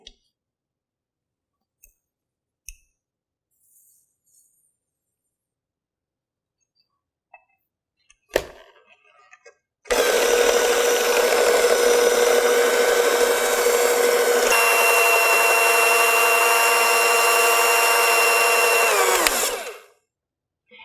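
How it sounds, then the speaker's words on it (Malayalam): An electric mixer beats sugar into apple cake batter: after a few faint clicks and a knock, a loud, steady motor whine runs for about ten seconds, shifting slightly in pitch partway through, before stopping. "അടുത്തതായി നമ്മൾ എടുത്തു വെച്ചിരിക്കുന്ന 1 കപ്പ് ഷുഗർ ആഡ് ചെയ്ത് മിക്സ് ചെയ്യാം."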